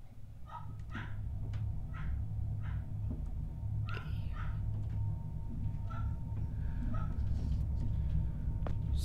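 A dog barks and yips repeatedly in the background at a moderate distance, short sharp calls spaced irregularly over a steady low hum, with a brief spoken word.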